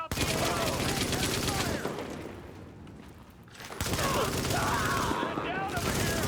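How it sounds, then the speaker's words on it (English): Rapid bursts of video game gunfire, a dense fusillade of shots with sustained automatic fire, easing off midway and then returning at full intensity, loud and close throughout. "Open fire"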